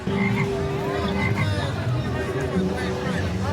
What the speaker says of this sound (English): If you do the right spell, you can get the chocolate frog to pop up here.